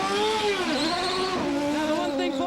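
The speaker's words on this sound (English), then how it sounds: "You could hear the engine was much higher" A 1994 IndyCar race car engine screams at high revs as it leaves the pits at the Indy 500, its pitch sweeping up and down quickly as it pulls away, loud and continuous.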